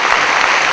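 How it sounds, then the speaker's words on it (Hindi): Audience applause welcoming Anand Kumar, founder of Super30: a dense, steady burst of clapping from a large crowd, loud and close, with no voices over it. "खड़े होकर तालियों की गड़गड़ाहट के साथ आपका स्वागत करें"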